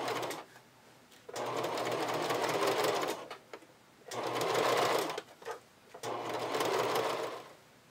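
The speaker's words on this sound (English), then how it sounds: "I'm stitching this seam together" A sewing machine stitches a seam in slippery fabric, running in three steady bursts of rapid whirring with short pauses between, close and clear with no talking.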